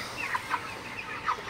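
Broiler chickens on a farm in Faridpur give soft, scattered clucks in cool weather. Four or five short calls come through at a low level over a faint, steady background murmur.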